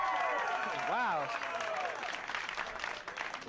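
Audience applause at the start of a live comedy show, a dense wave of clapping and cheering from the crowd, with a whooping voice rising above it early on before the clapping thins out.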